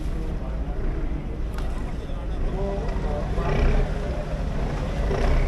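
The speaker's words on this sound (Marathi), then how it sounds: "आपल्या समोरून आपल्या मागून आलेली वॉटर मेट्रो देखील जात आहे" A Kochi water metro boat passes nearby on the water, giving a steady low engine rumble with wash and wind noise that swells slightly toward the end.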